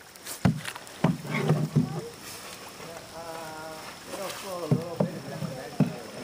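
Paddles dip and pull through water as a canoe or kayak is paddled, with soft splashes and strokes recurring under an instructor's close, steady talking.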